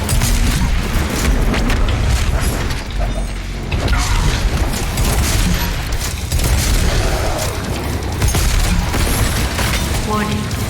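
BFG 10,000 superweapon firing in DOOM Eternal, a dense run of loud booms, crashes and heavy mechanical blasts filling the whole stretch with barely a pause, under a synthetic warning voice.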